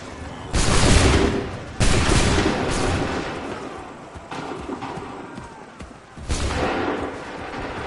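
Musket volleys from the Assassin's Creed 3 video game crash out as several loud, broad blasts, each fading into a rolling rumble amid battlefield noise.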